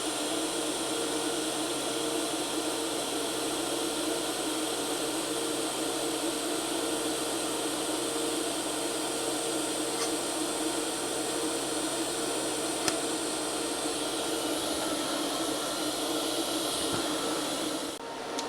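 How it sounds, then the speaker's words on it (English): A TIG welder runs a steady arc at 60 amps straight DC without filler wire, giving a continuous loud, even hiss and buzz that holds unchanged for the whole stretch, with a few faint clicks. "Once the weld starts, you don't need any filler wire, just glue it together quite nicely"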